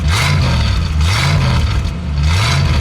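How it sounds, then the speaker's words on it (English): A 1973 Ford Maverick 302 V8 with a single exhaust revs hard in a few repeated surges, a loud, close, rumbling engine note rising and falling. "Go ahead, give it a rev."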